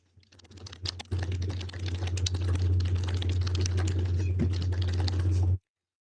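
Steady rapid typing on a computer keyboard, close and continuous for several seconds over a low electrical hum, then stopping abruptly.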